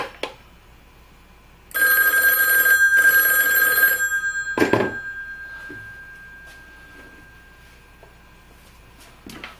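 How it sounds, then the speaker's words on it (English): Western Electric Model 500 telephone on a two-way phone line simulator with a ringdown circuit, two loud bell rings separated by a short pause, followed by a clunk and quiet handling sounds. "Here's the Western Electric Model 500."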